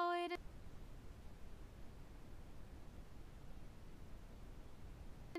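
Steady generated broadband noise plays evenly for several seconds, starting and stopping abruptly with brief tones at each edge, previewed in ocenaudio audio editing software.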